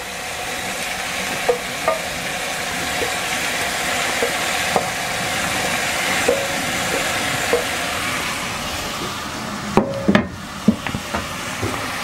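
Minced meat, bacon, chorizo and onions fry in a Dutch oven with a steady close sizzle, broken by occasional clinks and scraping stirs, and a cluster of sharper utensil knocks near the end.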